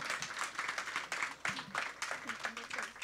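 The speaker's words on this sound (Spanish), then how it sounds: "Give a round of applause to the Lord." Church congregation applause during a bilingual service, a moderate, somewhat distant wash of clapping in uneven bursts with voices mixed in.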